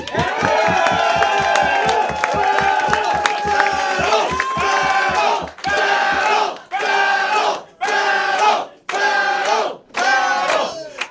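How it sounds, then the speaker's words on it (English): A live crowd at a roast battle comedy event roars and cheers loudly, first in a sustained wall of shouting and whooping, then in five rhythmic bursts of chanting with brief gaps between them. "Guys, let's make some noise."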